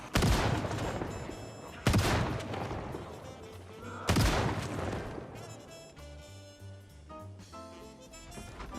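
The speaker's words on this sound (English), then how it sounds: "I managed to shoot the zombie behind that one." Gunfire in the video game Project Zomboid, three loud shotgun-like blasts spaced about two seconds apart, each ringing out and decaying, followed by quieter game music.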